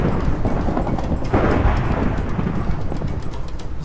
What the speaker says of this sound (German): Gut, dass der Donner überhaupt nicht laut ist.